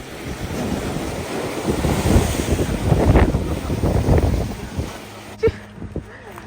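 Lake Michigan waves wash onto a rocky shore near the Fond du Lac Lighthouse, a rolling surge that swells and fades under heavy wind buffeting, with brief voices and a knock near the end.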